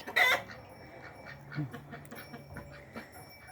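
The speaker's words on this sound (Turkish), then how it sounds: "bu benim horozum" A pet rooster in a Turkish backyard flock gives a loud, sharp burst of clucking at the start, then quieter scattered clucks and low calls continue, with no voices heard.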